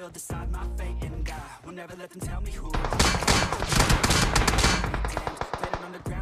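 Rapid automatic gunfire in PUBG Mobile, short bursts at first, then dense sustained firing from about the third second, loud and close with no talk over it.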